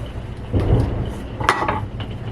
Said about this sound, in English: Sorry if you can hear a thunderstorm outside.